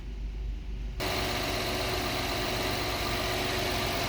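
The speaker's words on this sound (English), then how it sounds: "The engine's on." A car's engine idles steadily right after a battery replacement, starting about a second in with a continuous low rumble that holds even and close for the rest of the clip, with no talking.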